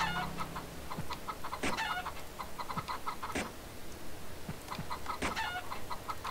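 Chickens clucking on a farm in Harvest Moon: Save the Homeland, a run of short, repeated cackles and clucks at moderate level over soft background ambience, with no talk.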